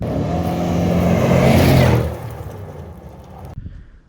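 A 4.8-litre V8 in an E70 BMW X5 with an aftermarket exhaust roars loudly and close for about two seconds, then the revs drop to a lower rumble before a sharp click near the end.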